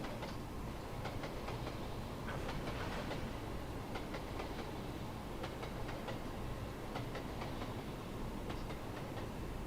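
A train running in the Trainz 2 railway simulator, with a steady rolling rumble and continuous clickety-clack of wheels over rail joints, near and unbroken, no voices.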